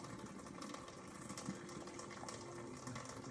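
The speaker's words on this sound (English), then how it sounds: "So I am going to drain some water" Water siphoned out of a canner holding pasta sauce jars, drained down to the top of the product, makes a steady, continuous gushing and trickling flow that holds at an even level throughout, with no talking.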